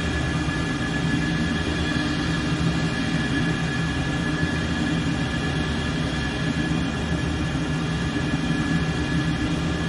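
Heavy, steady jet roar from F-14 Tomcat engines held at military power without afterburner, cruising near 39,000 feet in a flight simulator; a dense, unbroken drone with no pauses, running constant and loud throughout.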